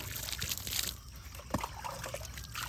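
Water trickles and splashes onto freshly sown pumpkin seeds in a small home vegetable plot, a close, steady wet pour with light sloshing and no talk over it.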